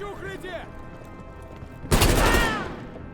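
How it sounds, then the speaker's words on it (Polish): A burst of loud, rapid gunfire in Call of Duty: Black Ops Cold War erupts after a quieter stretch with a voice talking, shots at explosive barrels ringing out in a dense volley and fading. "strzelam do tych wybuchowych beczek"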